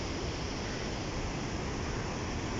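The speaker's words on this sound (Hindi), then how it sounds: "छोटे छोटे झरने यहाँ नीचे।" Small waterfalls below a mountain trail bridge make a continuous, uniform rushing hiss, even and unbroken throughout, with no voices over it.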